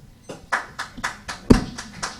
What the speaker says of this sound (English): can we just hold the applause, please?